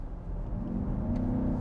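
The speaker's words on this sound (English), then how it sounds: "If I smash the throttle, the V8 will turn on, and then it'll work in tandem together." A 2024 BMW XM Label Red hybrid's V8 engine kicks in under full throttle, a deep, close rumble that swells and climbs in pitch over a second or so.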